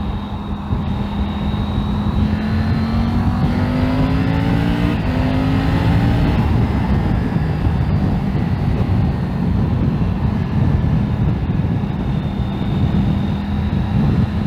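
A steady, loud engine roar from a moving Triumph Tiger 900 Rally Pro motorcycle, with rising and falling whine as it shifts, heavy wind rumble throughout.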